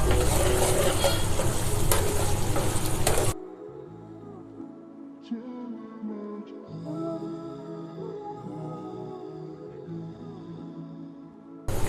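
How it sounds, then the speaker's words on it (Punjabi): Onions frying on full gas in a pan for a mixed dal tadka: a loud burst of sizzling and stirring at first, then a sudden drop to a faint, quiet simmer with a few light clicks. "ਹੁਣ ਅਸੀਂ ਪਿਆਜ਼ ਇਹਦੇ ਵਿੱਚ ਪਾ ਦਿੱਤੇ ਆ ਜੀ ਹੁਣ ਅਸੀਂ ਗੈਸ ਨੂੰ ਕਰਾਂਗੇ ਜੀ ਫੁੱਲ ਹੁਣ ਅਸੀਂ ਇਹਨੂੰ ਭੁੰਨਾਂਗੇ ਜੀ"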